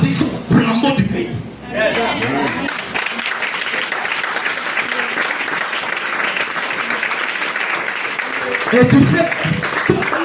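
A crowd at a tribute event for the prophet Isaac Haramalo applauds loudly and steadily, a dense continuous wash of clapping close by, while a voice speaks briefly near the start and end.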